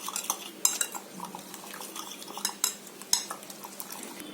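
A spoon scrapes and clinks against a bowl while paneer tikka marinade with coriander leaves is stirred, giving irregular close taps and soft smearing sounds with no voices.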